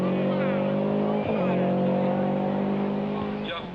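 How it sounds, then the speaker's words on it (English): A Toyota four-wheel-drive turbocharged rally car, prepared by Toyota Team Deutschland to World Rally Championship spec, drives on gravel at a 1991 rally with a steady loud engine drone and a brief dip, while a commentator talks over it. "There's the Toyota 4-wheel drive, turbocharged, prepared by Toyota Team Deutschland, just like the World Rally Championship cars"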